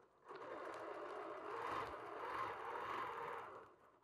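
A BERNINA sewing machine stitches down rows on a quilt border, giving a soft, steady mechanical whirr for about three seconds that rises briefly and then stops. It is faint and close, with no talking.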